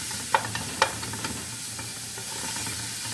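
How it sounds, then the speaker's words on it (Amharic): Onions sautéing in a pan for a quick Ethiopian chicken spaghetti dish, a soft steady sizzle with a couple of sharp utensil clicks near the start, no voices. "ሽንኩርቴን ከዚህ ካርኩ በኋላ ትንሽ ሽንኩርት መቁላላት አለበት።"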